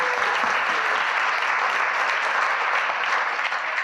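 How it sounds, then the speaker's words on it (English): A conference audience gives a speaker a round of applause, a loud, even wall of clapping from a large room that holds steady from start to finish with no speech. "I want us to give another round of applause to Andre."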